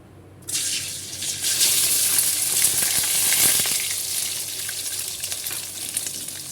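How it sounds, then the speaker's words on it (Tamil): Eggs are cracked into hot oil in a kadai for chicken rice and burst into a loud, bright sizzle that holds steady and close, then eases slightly toward the end. No one speaks. "இப்போ முட்டையை சேர்த்துக்கலாம். முட்டை இந்த மாதிரி நல்லா உடச்சி சேர்த்துக்கலாம்."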